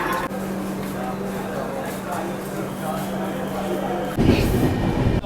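Low steady rumble and hum inside a carriage of the 22642 Shalimar–Thiruvananthapuram Superfast Express stopped at a station, with a rising jolt and louder clatter near the end; no clear speech.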